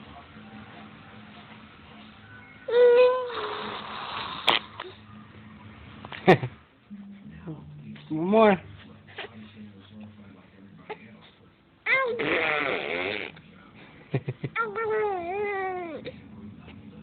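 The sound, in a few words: baby imitating fart sounds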